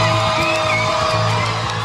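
Large outdoor crowd waiting on a jury verdict, whooping, yelling and cheering in a loud, continuous roar with scattered shouts.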